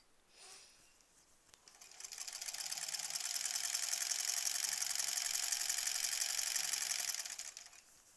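A sewing machine stitches a quilt border with many seams, ramping up into a fast, steady mechanical whirring chatter that holds for several seconds before slowing to a stop. There is no talk.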